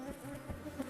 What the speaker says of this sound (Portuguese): Nessa colmeia, vemos o ninho de uma espécie sem ferrão